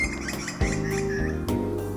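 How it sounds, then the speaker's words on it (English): A grey butcherbird in a Sydney suburb calls out alone, giving a short run of clear, fluting whistled notes with a few squawky accents, heard fairly close and free of talk. "This grey butcherbird, found in a suburb of Sydney,"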